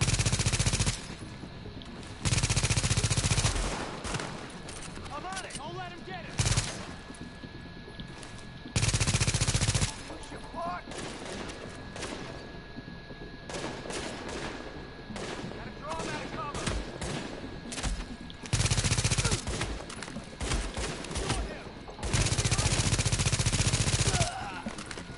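Repeated bursts of automatic gunfire from the video game Tom Clancy's The Division, loud and close in several long volleys separated by shorter gaps, with game voices and chatter in between.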